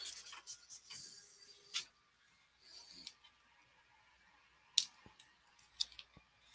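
A craft cutting machine makes a test cut in special effect material, giving faint, intermittent whirs and sharp clicks with quiet pauses between, close by and with no talking.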